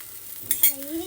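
Ghee being brushed onto a paneer paratha on a hot griddle, with a soft sizzle and two brief scraping strokes over a faint steady hiss.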